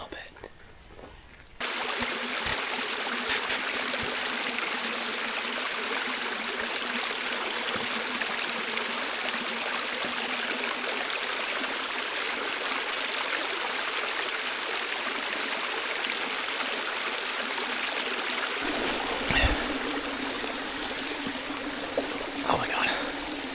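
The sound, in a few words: forest stream flowing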